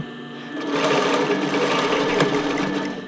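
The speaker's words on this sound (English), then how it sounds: "it's about time for me to change the needle in my sewing machine" A sewing machine stitches elastic onto a brief, its fast steady motor hum and needle clatter running continuously and close, starting a little quieter and then holding a loud even drone.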